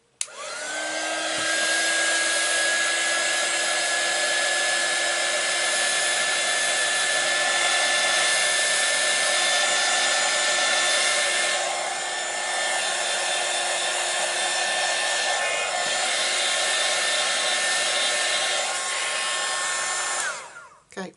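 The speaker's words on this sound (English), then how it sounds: "I'm going to get my heat gun" An unbranded heat gun blows hot air with a steady, loud whirring roar and a faint whine, running without a break for about twenty seconds at close range with no talking.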